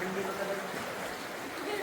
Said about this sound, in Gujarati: અહીંથી પાણી આવે છે.